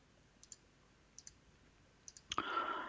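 A computer mouse gives soft, close double clicks in three spaced pairs. A louder rustle of handling noise follows at the end, with no talking.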